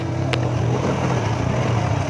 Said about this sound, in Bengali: ইলেকট্রিক মোটর অন হয়েও গেছে